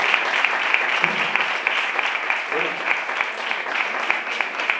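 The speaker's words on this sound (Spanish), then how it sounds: "ovación cerrada" An outdoor poetry-reading audience breaks into sustained applause, a dense steady wash of many hands clapping evenly throughout, with a brief murmur of voices partway through.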